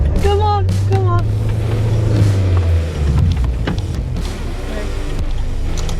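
A camper van's engine labours up a steep hill in winter while the weak handbrake struggles to hold it, producing a loud, low, strained drone that fades partway through, with voices talking over it.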